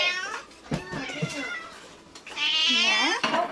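A domestic cat meows up close: a couple of short mews, then a longer, drawn-out plaintive meow near the end, with quiet background between calls.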